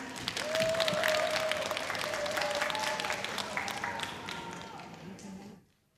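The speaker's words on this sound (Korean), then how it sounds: "큰 박수로 맞아주시기 바랍니다" Audience applause welcoming a singer on stage at an open-studio radio concert during a Buddhist expo: dense, steady clapping from a crowd for about five seconds, then it cuts off abruptly.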